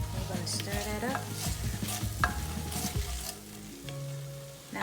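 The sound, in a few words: stirring ginger sweet potato stew in a pot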